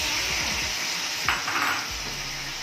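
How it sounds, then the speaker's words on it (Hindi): Tomatoes dropped into hot cooking oil for an okra dish, giving a steady, dense sizzle with a few stirring scrapes of a utensil against the pan, close and continuous. "ऑयल गरम करने के बाद आप इसमें टमाटर डाल लें"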